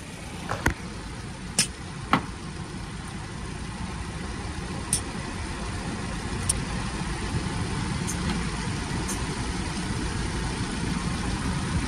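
A 2005 Toyota Corolla engine idles with a steady, even hum, broken near the start by a few sharp clicks.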